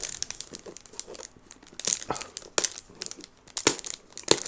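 Fragrance packaging torn and crinkled open up close, a run of sharp rips and crunchy crackles in irregular bursts, loud against a quiet background.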